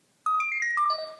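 A short melodic phone ringtone plays a quick rising-and-falling sequence of bright electronic tones, clear and alone.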